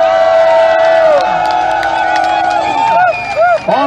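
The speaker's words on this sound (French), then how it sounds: "On applaudit pour Laurent Babo." A crowd at a Paris birthday rally for Laurent Gbagbo cheers and whoops loudly and continuously, with shouted voices rising above the babble throughout.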